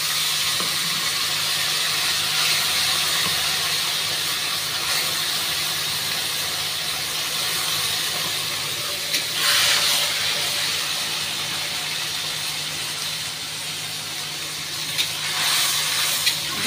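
Spice paste goes into a hot pan for a vegetarian soybean curry, a continuous loud hiss and sizzle close by with a brief surge of crackling partway through and again near the end.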